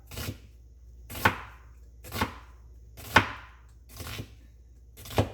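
Half an onion chopped with a knife on a cutting board: six evenly spaced, crisp chops about one second apart, close and clear with quiet gaps between, no talking.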